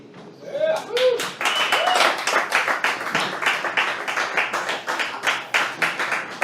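Audience clapping at a stand-up comedy show, a crowd's applause with distinct individual hand claps, starting after a brief voice and continuing steadily at close range.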